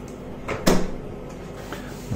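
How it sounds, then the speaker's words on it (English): A door is pushed shut in a home workshop, giving a single solid thud with a brief latch click, preceded by a soft creak and followed by faint shuffling. "I'm going to have to shut that door because of all of the fireworks."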